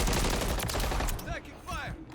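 Dense, continuous gunfire from Call of Duty MW3 fills the first half as a loud fusillade of rapid shots, thinning into scattered bursts while a voice speaks briefly over it.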